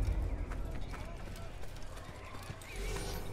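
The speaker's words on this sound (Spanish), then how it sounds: "A montar a caballo." A horse being ridden in Assassin's Creed, with quick hoofbeats under a dense, busy game soundscape while someone speaks over the riding.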